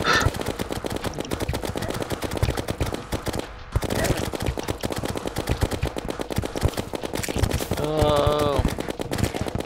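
Rapid, continuous gunfire rattles from a Terraria game battle against a goblin army, a dense stream of quick shots that barely pauses, with talk over it near the end.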